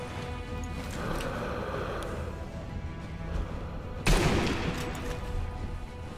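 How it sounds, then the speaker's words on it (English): Machine gun fire in Sniper Elite V2 rattles as a steady, moderately loud stream of shots under ambient game noise, with a sharp louder impact burst partway through. "Oh, I picked the wrong machine gun."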